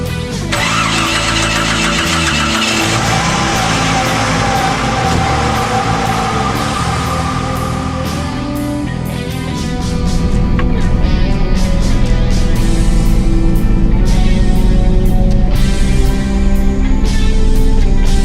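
A Jeep engine cranks and catches, then runs steadily at a mid-pitched rumble, growing louder and fuller about halfway through as the vehicle pulls away and drives, close and alone with no talk.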